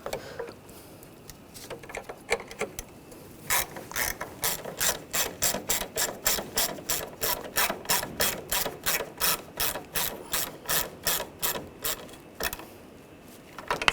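Hand ratchet snugging down valve cover bolts on a 2006-2010 BMW 550i 4.8L V8, a long run of rapid, evenly spaced clicks close to the listener, in a few bursts with brief pauses between strokes.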